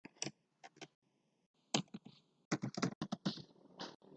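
Typing on a computer keyboard while entering MySQL statements, close clattering bursts of keystrokes separated by brief pauses, no talk.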